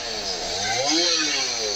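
A chainsaw cuts through debris clearing a road blocked by Hurricane Beryl in Dominica, its engine revving and rising in pitch, moderately loud and continuous.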